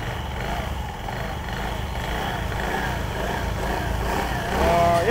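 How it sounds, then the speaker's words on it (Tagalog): A Honda Beat scooter engine, recently repaired without replacing its crankshaft, idles steadily up close and then revs up near the end. "So rev mo nga Soren."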